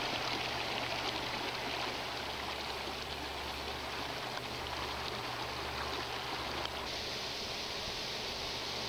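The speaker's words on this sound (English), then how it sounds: "We're actually going to drink from this waterfall." Waterfall stream on a Mt Defiance mountain hike, rushing water flowing steadily and loudly throughout with no voices, a constant broadband roar close by.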